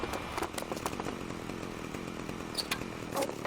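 A chainsaw execution in the video game Manhunt, with a continuous buzzing chainsaw roar, steady and loud, broken by short harsh impacts.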